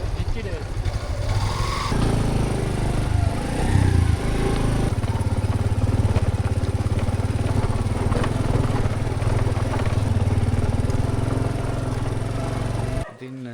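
A motorbike climbs a rough road through Knuckles Forest near Rathnagiriya, Sri Lanka, its engine droning steadily and close for most of the ride before cutting off near the end.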